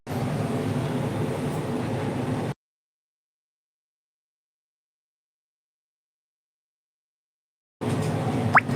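Inside a moving train past Kasaragod, a steady low rumble of the carriage running on the rails fills the opening seconds, then cuts to silence and returns briefly at the end with a faint squeal.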